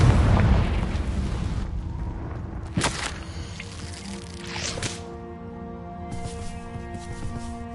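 A Confringo fire spell bursts in Hogwarts Legacy, a booming explosion with a sharp crack followed by a second blast and a ringing tonal tail, set against game ambience.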